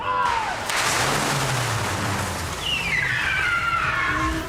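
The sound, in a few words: car coming in fast on a movie set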